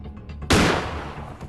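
A single sharp tranquilizer-gun shot in the horror game Granny bursts out loudly, then trails into a fading noisy tail over a low background hum.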